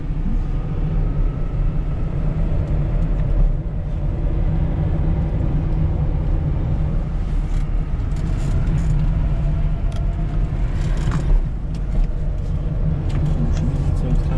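An electric car, a converted Syrena or Maluch, races on a track with a constant whirring drone from inside the cabin, a steady rumble of wind and road noise that never lets up.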